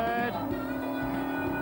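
A race car at Gurston Down hill climb drivers' school pulls up through the gears into third, its engine note a steady, fairly distant harmonic drone climbing slightly in pitch.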